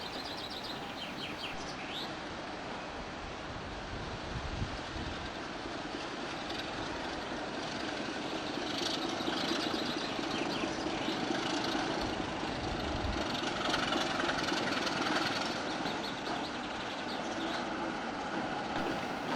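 A British Rail Class 27 diesel locomotive, 27052, runs light without coaches toward tunnels at Edinburgh Waverley. A steady engine rumble and rail noise carry throughout, with birds chirping faintly over it.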